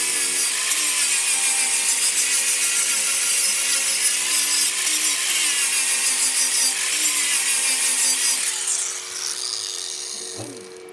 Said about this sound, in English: So I'm gonna grind this smooth.